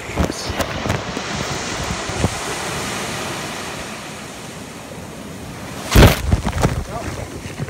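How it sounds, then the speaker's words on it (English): Ocean waves wash and break continuously on a North Carolina beach, with gusts of wind buffeting the microphone and a louder surge near the end. "you guys can get a view of the waves"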